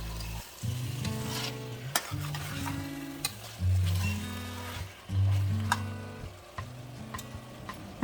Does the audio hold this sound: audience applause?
no